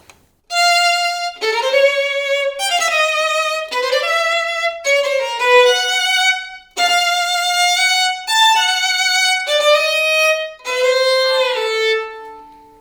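A solo violin plays a Bartók theme with every note kept in a single register. It is a clear, close melodic line of bowed notes and short phrases, and no one speaks.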